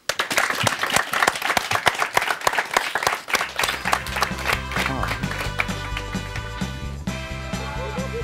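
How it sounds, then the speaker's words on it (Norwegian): An audience bursts into loud, sustained applause at a student TV show, dense rapid clapping from a crowd that continues alone while a musical jingle rises underneath partway through. "En applaus."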